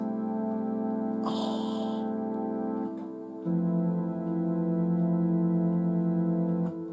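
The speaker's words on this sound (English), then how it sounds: "So there was this lovely preset sound called Lo-Fi Strings," A sustained, warm analog synthesizer pad from a Lo-Fi Strings preset with an organ-like tone holds steady, shifting chord partway through, with a brief hissy noise burst early on.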